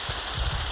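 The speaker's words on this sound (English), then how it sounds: "Still in the rain." Steady rain falling outdoors, a continuous dense patter on surfaces, close and even throughout with no talking.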